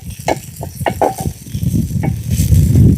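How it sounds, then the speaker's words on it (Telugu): Ginger garlic paste sizzles and fries in a pan with chicken wings, a steady close hiss broken by a few scraping stirs, loud and continuous with no talking. "అల్లం వెల్లుల్లి పేస్ట్ పచ్చివాసన పోయేలాగా ఫ్రై చేయాలండి"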